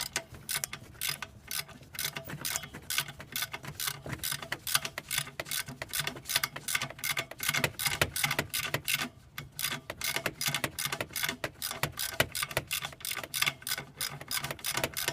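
A hand ratchet clicks steadily in rapid bursts while backing out an alternator bolt on a 1992 Ford Bronco, the metallic pawl ticks repeating close up and alone throughout.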